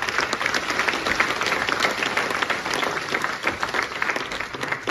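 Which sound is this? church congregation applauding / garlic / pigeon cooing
church congregation applauding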